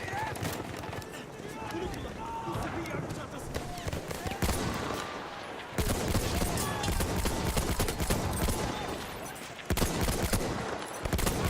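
Selbstlader rifle fire from the Battlefield 1 video game crackles in rapid, repeated shots amid dense battle noise and explosions, loud and continuous, with someone talking over much of it.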